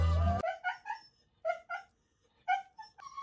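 A dog whimpers and whines in several short, high, tonal cries spaced across a few seconds, close and clear in a quiet indoor setting.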